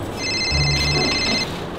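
A telephone rings inside a home, its tonal electronic ring steady and fairly clear over low room noise for under two seconds, with a brief low hum partway through.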